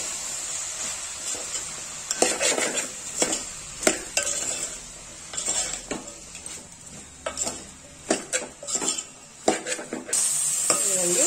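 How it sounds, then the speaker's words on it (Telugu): Bottle gourd pieces are tossed with salt, chili powder and turmeric in a pan, with irregular spoon scrapes and clinks against metal coming in close, uneven bursts. "ఇప్పుడు ఈ ఉప్పు, కారం, పసుపు ఈ ముక్కలకు పట్టేటట్టు కలుపుకోవాలి"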